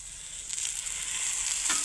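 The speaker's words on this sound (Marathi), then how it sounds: "जोपर्यंत हा मसाला थोडासा तेल टाकून परतेपर्यंत" Masala sizzles steadily in hot oil with a bright, continuous frying hiss that swells slightly toward the end, close and fairly loud with no talking.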